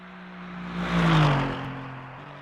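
A GT3 race car in Le Mans Ultimate, heard from an outside chase view, rising to a loud engine swell midway and then settling into a steady, lower drone.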